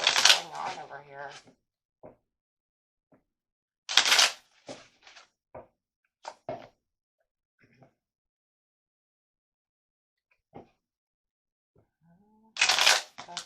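Tarot cards are shuffled in short bursts of riffling and flicking at the start, middle and end, with quiet taps and rustles between them and no other sound.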